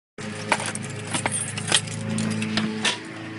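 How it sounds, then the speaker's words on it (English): Keys jangle close by in a few bright metallic shakes and clinks over a low hum, with no one talking. "Keys, keys, keys. Keys."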